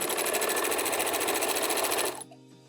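A sewing machine runs fast and steady, stitching through a Minky blanket at close range, then stops abruptly near the end, leaving a faint hum.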